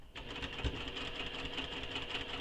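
A sewing machine runs in one steady continuous burst, back-stitching and then sewing a straight seam along fabric; the motor whirs evenly at close range with no voices.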